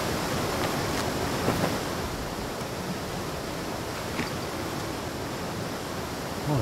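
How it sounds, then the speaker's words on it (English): Waterfall in the ATLAS video game, a loud, dense, unbroken roar of rushing water heard close up with no talk. "So I wonder if it's a waterfall"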